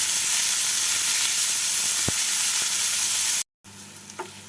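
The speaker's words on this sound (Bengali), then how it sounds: "এবার এর মধ্যে কুচিয়ে রাখা পেঁয়াজগুলোকে দিয়ে দেবো পেঁয়াজগুলোকে দিয়ে পেঁয়াজগুলোকে হালকা ব্রাউন করে ভেজে নেব" Chopped onions frying in hot oil for paneer dopeyaja, a steady broadband sizzle throughout with a couple of faint stirring knocks and a brief drop near the end before the sizzle resumes.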